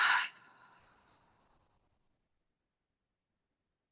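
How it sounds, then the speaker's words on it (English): One open-mouthed exhale during a guided breathing pause, a brief breathy burst that trails off within a second or two into silence, close and soft, with no talking. "Open the mouth to exhale."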